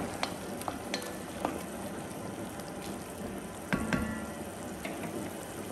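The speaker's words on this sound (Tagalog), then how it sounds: "At haluin ulit." Squid and potatoes stirred in a cooking pan make a low bubbling, wet simmer with scattered light taps and scrapes of the utensil, a slightly louder clink near the end, close and without talking.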